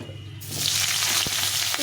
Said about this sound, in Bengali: এই তেলে আমি ফুলকপিটা একটু ভেজে নেব